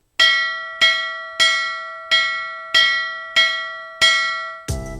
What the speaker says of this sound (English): I hear a bell ding-dinging.